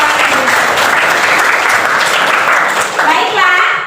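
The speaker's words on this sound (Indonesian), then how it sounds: "Tepuk tangan untuk Bank Indonesia." An audience at an Indonesian school arts lesson breaks into sustained, loud applause that fills the whole moment, with a few children's voices rising near the end.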